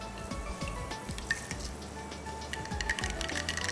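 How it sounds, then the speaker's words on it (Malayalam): Mustard seeds spluttering in hot coconut oil with fenugreek, scattered small pops and crackles over a soft, steady sizzle, close and fairly quiet. "കടുക് പൊട്ടി തുടങ്ങിയിട്ടുണ്ട്."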